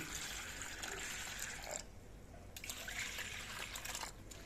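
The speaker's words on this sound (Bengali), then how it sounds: "এবার এই ডালগুলো আমি আধ ঘন্টা ভিজিয়ে রাখবো তার জন্য জল দিয়ে দিচ্ছি" Water is poured over washed lentils in a bowl to soak them, a faint steady trickle and splash that breaks briefly before resuming, with soft hiss underneath.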